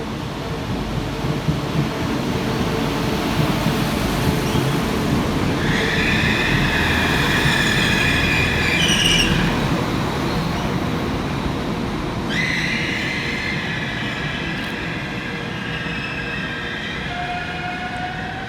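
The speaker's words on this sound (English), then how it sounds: "Arriving next into the station is 195 107, working the 1621 Northern service from Chester through to Leeds." A Northern class 195 diesel multiple unit rolls into Manchester Victoria station, a steady loud rumble of wheels and engine, with two bursts of high metallic brake squeal midway and a faint tone near the end.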